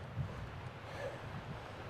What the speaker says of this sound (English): it's hella windy up here today